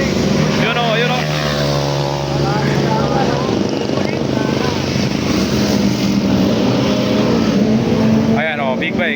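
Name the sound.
big bikes racing on Marilaque highway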